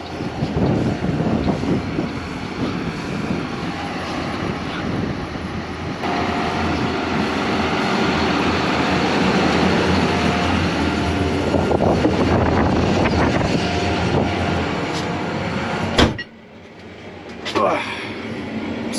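A John Deere W235 swather fitted with a 500R header idles nearby with a loud, steady engine drone and rumble that holds for about sixteen seconds, then dips sharply before rising again briefly.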